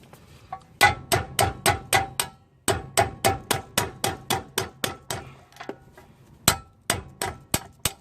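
Hand hammers strike the lower ball joint of a 1999 Toyota Tacoma in quick, sharp metallic blows, about two dozen of them in rhythmic bursts with brief pauses, close and clear with no talking.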